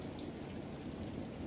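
Steady rain on a night, a dense, even hiss of falling drops throughout at a constant moderate level with no voices.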